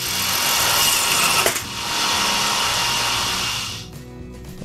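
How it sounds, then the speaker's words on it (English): A bandsaw blade snapping partway through a cut on a wooden plaque base: steady loud whine of the running saw, a sharp crack about a third of the way in, then the motor winding down. "my bandsaw blade breaking was the most exciting thing about cutting out the base and the rings"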